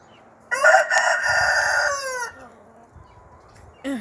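A farm rooster gives one loud, close crow lasting about two seconds, then a quieter call follows, and a short harsh squawk comes at the end.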